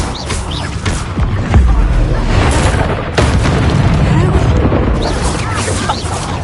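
Dense, rumbling explosions and crackling bursts from an Incendio fire spell in a video game, with sharp pops around the middle over a continuous roaring blaze and a faint voice beneath.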